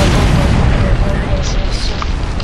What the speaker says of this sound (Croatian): Jo, bomba.